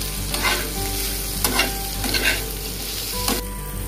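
Fish stir-fried in a pan with fried onion and garlic, a steady sizzle under repeated scraping stirs of a spatula against the pan, with no voices.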